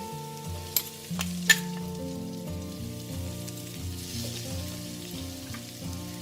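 Minced pork chili paste stir-fries in oil for Thai nam prik, a steady crackling sizzle from the pan with a few sharp clicks and scrapes of the spatula near the start.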